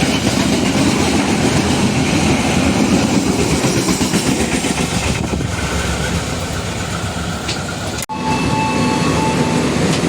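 Sritanjung passenger train running on the railway in Java, a loud, continuous rumble with rhythmic clickety-clack of wheels over rail joints heard from inside the carriage, briefly cutting out near the end before resuming.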